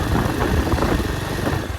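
Motorcycle engine with a modified exhaust, heard riding on the road from Pokhara toward Maidi Taal Deurali, a steady close rumbling drone that holds its loudness throughout with no talk.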